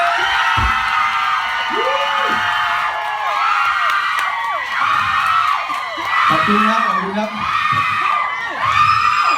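A large crowd cheers, whoops and shouts loudly and continuously, with high-pitched screams, while someone briefly speaks over the noise.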